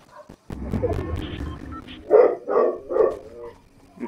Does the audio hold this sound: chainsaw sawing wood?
no